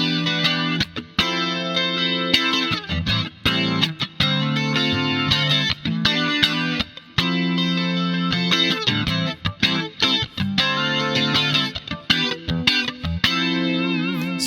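An electric guitar is strummed through an iOS amp simulator with distorted, chorus-tinged effects, with full rhythmic chords and brief choked gaps between strokes, loud and upfront with no talking.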